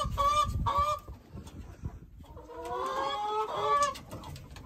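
Several chickens cluck and squawk together indoors, a busy burst of calls that fades briefly before the racket picks up again.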